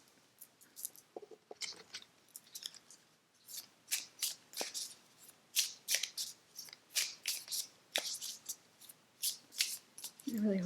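Tarot cards are shuffled by hand in a quick run of crisp riffling bursts, repeated at an even rhythm for several seconds, close and fairly quiet.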